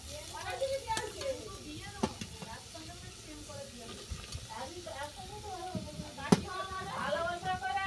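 Pui leaves are stirred into a pan where potato and banana stem are frying, giving a soft, continuous sizzle with scraping stirs, heard under a voice talking throughout.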